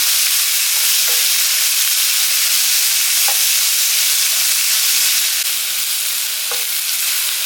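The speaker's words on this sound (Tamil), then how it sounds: "எல்லாம் சேர்த்து நல்லா வதக்கணும்" Chopped tomato sautéing in a pan with garam masala and salt, a loud continuous frying hiss with a few faint, spaced stirring clicks underneath.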